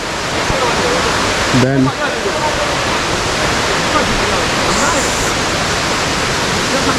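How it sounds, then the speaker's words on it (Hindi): A waterfall in Meghalaya roars as a loud, steady broadband rush filling the whole stretch, with a brief voice heard over it near the start. "सो ये फर्स्ट वाटरफॉल है"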